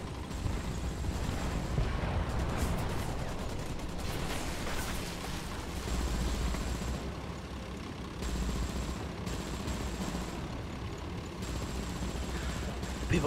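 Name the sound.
tank gunfire at match start in video game War Thunder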